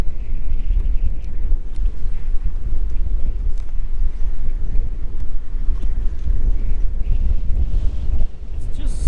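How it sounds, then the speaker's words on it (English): Strong wind buffets the microphone continuously beside beehives, a heavy low rumble with gusty fluctuations throughout. "It's just so windy."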